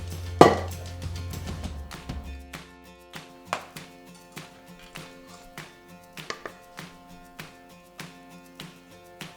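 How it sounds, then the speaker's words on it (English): Coconut cake batter for a piña colada cake being scraped and tapped from a bowl into two cake tins, with a steady run of light, regular knocks and taps close by, no talking. "I'm going to give that one last scrape down and then add it into my 2 cake tins."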